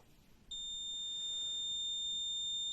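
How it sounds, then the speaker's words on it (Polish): An alarm on a test rig for checking component assembly starts abruptly and keeps sounding a loud, steady high-pitched electronic tone without a break. "I znowu włączył się alarm."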